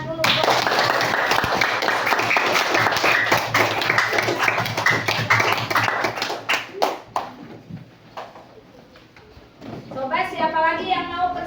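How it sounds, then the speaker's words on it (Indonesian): A classroom full of people claps together for several seconds after a student presentation, the clapping trailing off into scattered claps before a voice speaks. "Tepuk tangan dulu."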